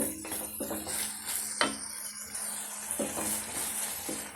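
Ground pepper, cumin and fennel sautéing in a pan for a Tamil crab fry, giving a steady soft sizzle with a few sharp clinks of a spoon against the pan, close and unaccompanied by talk.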